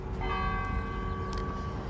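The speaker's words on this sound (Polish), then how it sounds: "Jakieś dzwony jeszcze nam tu atakują nas." Church bells ring out in the town of Risan, Montenegro, a sustained resonant tolling heard from a short distance over a continuous low outdoor rumble, with no voices.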